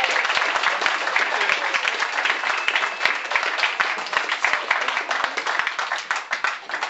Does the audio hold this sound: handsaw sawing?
no